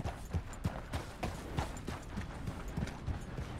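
Horse hooves clip-clopping in Red Dead, a steady, close trotting rhythm of crisp hoof strikes on hard ground, moderately quiet and heard alone.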